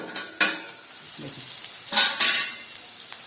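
A spoon scrapes and stirs mixed vegetables coated in masala as they fry in a pan, with a steady sizzle and a few sharp, louder scraping strokes spaced across the moment.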